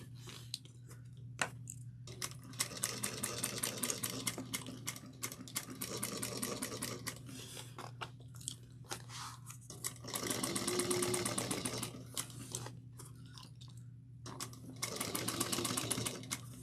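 A sewing machine top stitches a tote bag in loud, rapid bursts of whirring needle action, stopping and starting several times with short quiet gaps between runs, close up and without talk.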